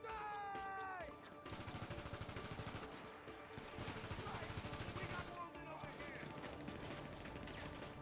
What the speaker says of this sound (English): shooting the ever-loving shit out of all of these guys